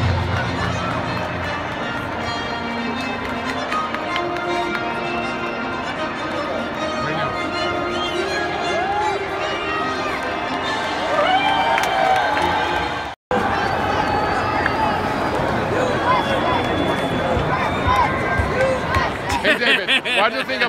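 Loud, dense crowd noise from a large audience at a concert in Brazil, sustained cheering and roaring babble that fills the whole span, briefly cut off near the middle before resuming just as strong.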